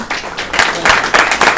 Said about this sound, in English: So please applaud him as he has been promoted to the position